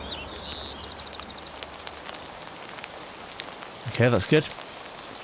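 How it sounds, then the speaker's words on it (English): Steady rain ambience generated in Krotos Studio software, a soft continuous patter of drops on a surface, with faint bird chirps early on and a person briefly speaking near the end. "Or maybe we want to move it more over to the rain."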